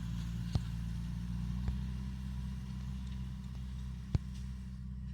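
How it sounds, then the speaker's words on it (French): Farm tractor engine runs nearby at a steady low idle-like drone in a field during metal detecting, with a few sharp clicks or knocks over the hum. "Désolé pour le bruit du tracteur."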